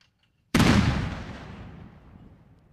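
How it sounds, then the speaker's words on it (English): A single loud ceremonial cannon shot from the 1-5 Field Artillery at the opening of a military ceremony: a sharp, powerful boom out of silence, then a long rumbling decay over about two seconds. "The firing of the cannon will signal the start of the ceremony."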